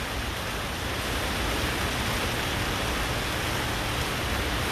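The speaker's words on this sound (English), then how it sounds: "Getting a little rain here. Can you hear that?" Steady light rain falls outdoors, a continuous soft hiss of drops spread evenly with no breaks and no voices.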